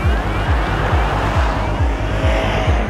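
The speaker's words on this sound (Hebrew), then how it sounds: "לצבעוניות ולרעש המיוחד הזה מהאקזוז" A new Subaru STI's exhaust burbles close up in a steady, rhythmic pulse of deep throbs, loud and unbroken, with no voices over it.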